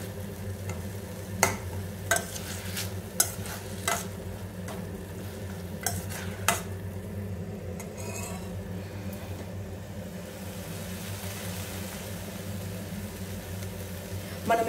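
Tomatoes frying in a pan for a coriander stem chutney, a low steady sizzle with several sharp clicks and scrapes of a spoon stirring, fairly close and continuous throughout.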